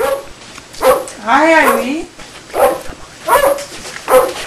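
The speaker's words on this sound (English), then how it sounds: "Were those your dogs I hear barking?" Dogs in a house bark and whine in short bursts, several sharp yaps spaced over a few seconds, loud and nearby, while a voice greets someone between them.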